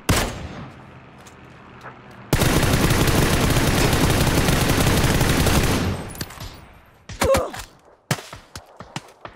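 Sustained burst of heavy gunfire in PUBG fills several seconds loud and dense, then fades into scattered sharp single shots and cracks.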